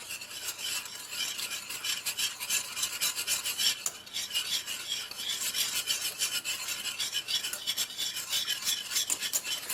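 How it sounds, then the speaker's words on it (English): A soy sauce mixture is whisked briskly in a bowl, a fast, continuous raspy scraping with rapid rhythmic strokes that pause briefly midway and then resume, close and alone. "we're going to whisk that together"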